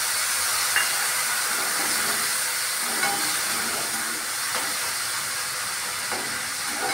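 Water poured into a hot pan of frying spices for a papad curry gives a steady, close hiss of steam and sizzle with faint crackles, no voices over it.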